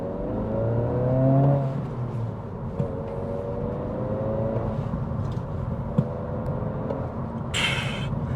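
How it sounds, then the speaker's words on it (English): A 2026 Honda Civic Si pulls hard in second gear, its engine whine rising then easing close by. A short hissing turbo blow-off follows when the throttle lifts near the end. "you hear a little blow off too when you let off after a pretty heavy throttle application"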